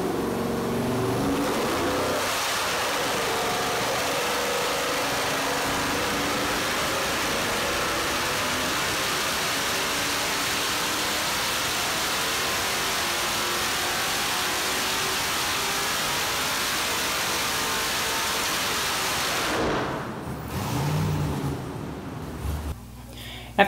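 A V8 (5.3 LS) on an engine dyno during a camshaft lobe-separation-angle test: a steady, loud, sustained engine roar holding for about twenty seconds before cutting off, with faint murmur after.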